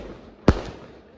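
A firecracker bomb goes off at an outdoor village birthday celebration: a single sharp, loud bang that dies away within about half a second.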